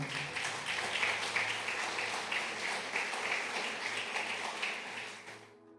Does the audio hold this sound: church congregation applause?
yes